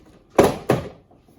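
Rear door panel being pried and pulled off a 2018 Lexus ES 350 with a trim tool, giving two close, sharp plastic clip pops in quick succession, then quiet.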